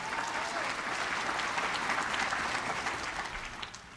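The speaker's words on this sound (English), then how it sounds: "Everybody give a round of applause to Senator Gail Harrell." Audience applause for Senator Gail Harrell at a Ron DeSantis event: dense, steady clapping from a large crowd, sustained throughout and tapering slightly at the end.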